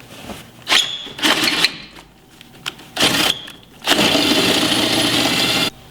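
A power drill drilling through metal while installing a Rough Country front winch bumper whirs in several short bursts, then runs steadily for a couple of seconds before stopping, close and fairly loud.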